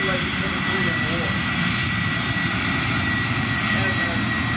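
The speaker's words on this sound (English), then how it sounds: "Now this airplane, the improved version of the MiG-15, came out a little too late for the Korean War." An improved MiG-15 jet at an airshow demo roars continuously with a loud, broad engine whine and steady high tones, sounding close and filling the whole stretch.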